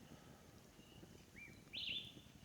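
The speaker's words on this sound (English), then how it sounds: "The birds singing." Birds call a few times in the morning, overcast and windless, out in the wild African bush: a couple of brief, thin chirps and a short trill near the end, moderately distant over a low rumbling background.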